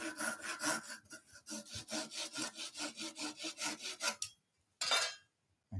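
A hand saw cuts off a woodturned wooden piece with about a dozen quick, even rasping strokes, close and clear. After a short pause there is one final stroke.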